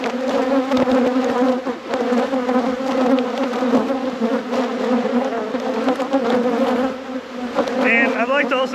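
Crowded honeybees buzzing steadily and loudly from an opened hive during a deep spring inspection after winter, a dense continuous drone with no talk over it.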